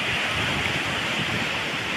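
Strong monsoon sea waves from an intense northeast-season swell nearly two meters high crash continuously, a loud, unbroken roaring surf wash with no pauses and no talk.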